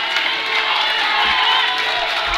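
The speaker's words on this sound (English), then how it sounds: "Everybody cheering on Matt Sohmer." A crowd at a collegiate powerlifting nationals cheers and shouts steadily throughout an 821-pound squat attempt, a dense continuous roar of many voices filling the hall.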